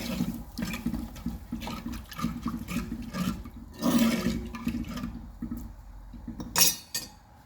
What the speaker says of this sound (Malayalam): ഈ ആവശ്യത്തിന് വെള്ളം ഒഴിക്കുക.